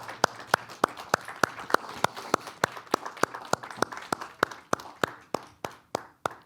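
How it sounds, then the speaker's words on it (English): Rhythmic clapping from an audience welcoming a speaker at an evening event, a steady beat of about three claps per second that slows and thins toward the end, with faint murmuring beneath. "You got to keep clapping."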